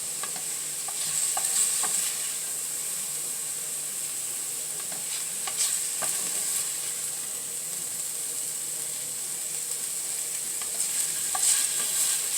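Shrimp sizzling in a frying pan while being stirred, a constant close hiss of frying with occasional scraping and clicking of a utensil against the pan, no talking.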